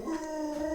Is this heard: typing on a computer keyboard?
no